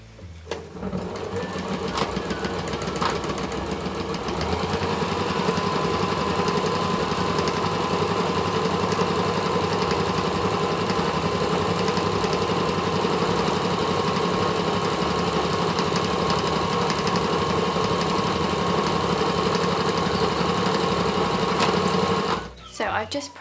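A sewing machine stitches a seam on a fabric basket, running in one continuous fast mechanical whir with a steady vibrating hum for about twenty seconds before stopping, close and loud.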